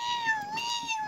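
A drawn-out, high-pitched cat meow with a wavering, whiny tone, close and fairly soft.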